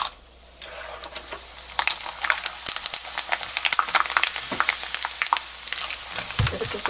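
Dried seaweed (miyeokgwi) deep-frying in hot oil crackles with a steady, dense sizzle, punctuated by stirring and light clinks of a utensil against the pan, with no talking.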